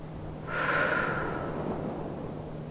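A single long breath pushed out through the mouth during a release breathing exercise in a holistic meditation, a soft airy exhale lasting about a second and fading gradually, close and alone over a quiet steady background hum.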